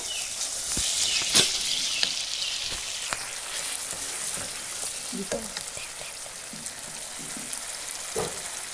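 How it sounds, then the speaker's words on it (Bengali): A chicken spice paste seasoned with salt is fried in a pan, producing a steady close sizzle with sharp spatula clicks and scrapes scattered throughout, alone with no talking. "লবণ দিয়ে দিচ্ছি স্বাদ মতো লবণ মশলাটা ভালো করে কষিয়ে নিব"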